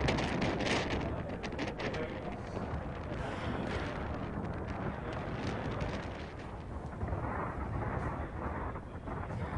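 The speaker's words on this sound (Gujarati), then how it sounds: "ભાવનગરના વરતેજ સહિતના ગ્રામ્ય પંથકમાં ધોધમાર વરસાદ શરૂ થયો" Heavy downpour from Cyclone Biparjoy over the rural Vartej area near Bhavnagar, a loud, steady roar of rain with gusty wind rumble lasting the whole stretch, no voices.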